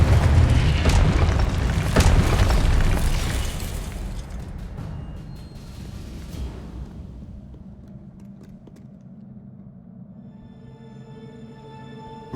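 Hogwarts Legacy gameplay with spell-casting and a loud booming explosion that rumbles and fades over several seconds, followed by quieter, ringing game ambience.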